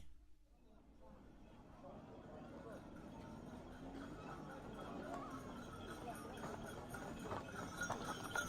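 Hooves clip-clop in a steady walking rhythm, growing slightly louder, while people talk over the plodding steps.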